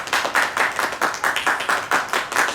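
A round of applause for a narrator during a filmed stage-play parody, steady rhythmic hand clapping from a small group, fairly close and even, with no talk over it.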